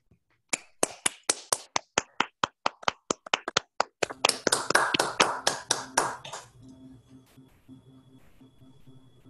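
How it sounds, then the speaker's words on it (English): A small online class applauds: separate sharp handclaps at first, quickening into a brief burst of overlapping clapping that fades into quiet room noise. "I think we need to give a round of applause"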